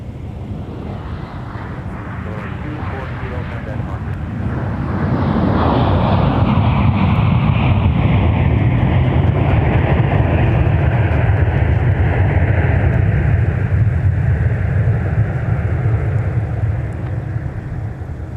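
A jet airliner arrives at Minneapolis–St. Paul airport after a flight from Southwest Florida International, its engine roar swelling loud and close, then holding a broad, steady rush before easing slightly, with wind buffeting the microphone.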